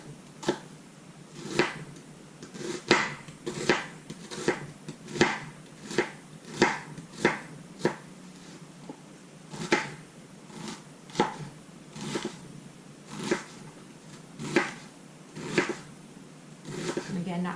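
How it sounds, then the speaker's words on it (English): A knife chops onion strips for potato pancakes at a campfire, with steady, evenly spaced chops striking a board up close, each one crisp and distinct, repeating for the whole stretch. "cutting these strips makes a quick, even chop"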